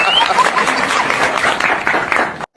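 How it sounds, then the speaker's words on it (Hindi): Audience clapping breaks out after a comic scene in a network-marketing roast, a dense steady burst of applause that holds for a couple of seconds and then cuts off abruptly. "अरे यहां पर तालियां मारने की क्या जरूरत थी?"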